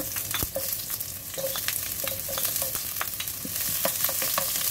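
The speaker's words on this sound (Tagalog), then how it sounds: "mainit pa yung mantika at pwede natin lagay yung sibuyas muna." Onions dropped into hot cooking oil, a close continuous sizzle punctuated by a rapid series of sharp clicks and taps from a spoon against the pan.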